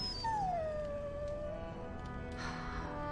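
A dog in the video game Dragon Age Origins gives a drawn-out whimpering howl that slides downward, close and plaintive, over a steady low ambient background.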